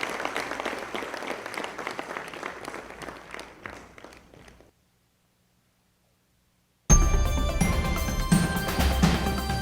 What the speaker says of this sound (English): Give him a round of applause as he comes forward here.